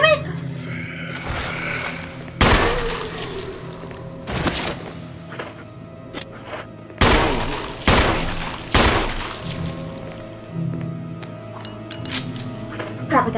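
In Resident Evil Remastered, a gun fires several sharp, loud shots spaced a few seconds apart, each ringing out over a low ambient hum, with a creature growling and someone speaking between the shots.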